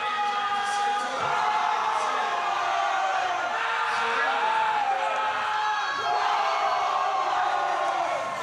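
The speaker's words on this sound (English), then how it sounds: "he will have to talk quite loudly to get over the noise of these enthusiastic swimmers" Loud, sustained cheering and whooping from an excited crowd of swimmers at a zonal swimming championship, filling the space continuously.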